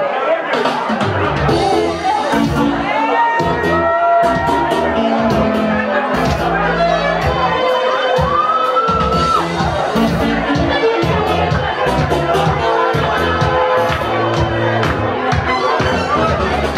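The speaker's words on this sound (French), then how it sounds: "On l'applaudit s'il vous plaît," Audience at a live show in Lausanne cheering and applauding for J.M. Paris Onambele, a loud, continuous crowd roar with shouts and music-like tones running throughout.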